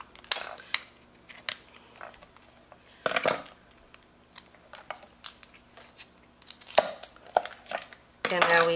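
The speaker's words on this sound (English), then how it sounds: "We're going to cut the shell down this way with our kitchen shears." Kitchen shears cutting down a lobster shell: scattered sharp snips and crunchy cracks separated by quiet gaps, close up, ending in a louder burst of rustling scrape.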